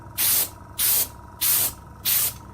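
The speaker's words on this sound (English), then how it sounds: "give all the surfaces a bit of a air brush spray, just to get rid of all possible dust" Airbrush compressor blowing short bursts of air across surfaces to clear dust, four evenly spaced loud hissing sprays of about a third of a second each, with near silence between them.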